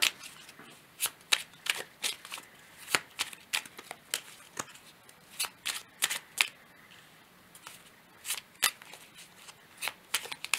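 Tarot cards shuffled by hand during a sentimental reading, giving quick crisp riffling bursts repeated in an irregular rhythm, close and fairly quiet with no talk over them.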